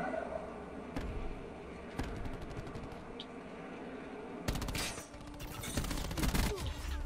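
Gunfire from the Black Ops 4 video game in a Hardpoint match, with scattered shots early, then dense rapid automatic bursts in the second half, under quiet game audio.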